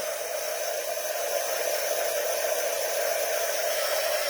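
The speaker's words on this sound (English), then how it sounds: "So always preheat your heat gun." A steady, loud rushing blast of hot air from a heat gun preheating for embossing, constant and unbroken throughout with no other sounds.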